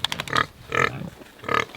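Pigs resting in the shade after feeding grunt close by in three short, separate bursts of snorting oinks, evenly spaced with brief pauses between them.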